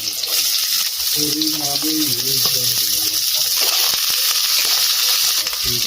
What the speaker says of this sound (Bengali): কড়া গরম হয়েছে, কড়ার মধ্যে তেল দিয়ে দেবো, কুচি দিয়ে দেবো, পেঁয়াজ কুচি দিয়ে দেবো